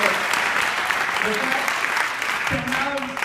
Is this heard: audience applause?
yes